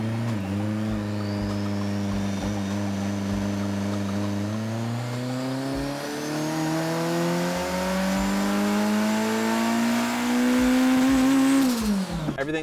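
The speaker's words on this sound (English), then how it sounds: "We're going to put the car on the dyno." Turbocharged stroker-engine race car revving on a dyno, a loud sustained engine note with its pitch climbing steadily across the pull before dropping off sharply at the end.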